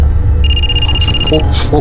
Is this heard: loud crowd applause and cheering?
no